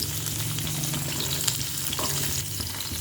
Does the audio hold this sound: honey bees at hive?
no